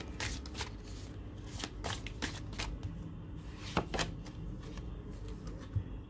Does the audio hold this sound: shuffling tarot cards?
yes